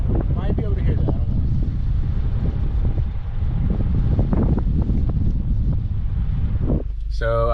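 Strong wind gusting over a lake, a steady loud roar buffeting the microphone for the whole stretch, with low rumble and occasional thumps, ending with a brief shuffle.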